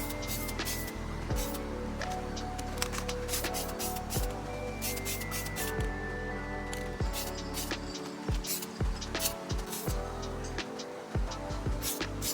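Non-automotive general-purpose spray paint hisses steadily onto car wheels at close range, with scattered sharp clicks and brief pauses in the spraying.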